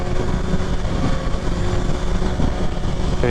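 A 2023 Kawasaki Ninja ZX6R pulls away from a stop, its engine a loud, close, steady roar mixed with heavy wind rumble and no pauses.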